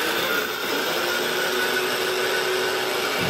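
An electric spice grinder grinds spices for an Ethiopian dinner, giving a loud, steady, unbroken whirring roar that runs through the whole stretch with no talking.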